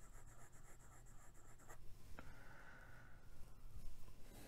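A Pilot Custom 74 fountain pen with a medium nib writes on paper. Faint, quiet scratching strokes run continuously with a small tap partway through, and no one speaks.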